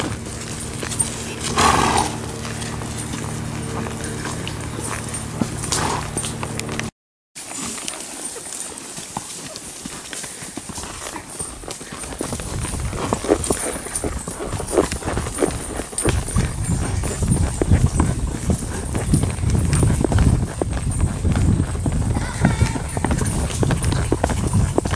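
Tennessee Walking Horses clip-clop along a trail on a family ride, hooves thudding in a steady, quick rhythm that grows louder and denser in the second half, with brief voices early on.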